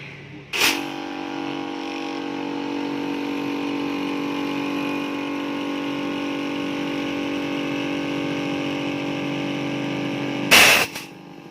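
A New War brand high-pressure air compressor runs with a steady, droning motor hum, bracketed by two short, loud bursts of released air at the start and end, with no talking.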